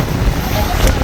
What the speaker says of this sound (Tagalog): Lakas ng hangin mga boss.